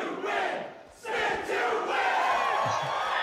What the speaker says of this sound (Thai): พวกนี้กองเชียร์มันมีกองเชียร์ด้วยเกมเนี้ย